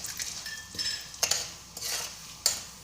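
Chana dal and turmeric frying in hot oil, heard as a faint sizzle broken by several sharp stirring scrapes and spoon clinks against the pan, without any talk.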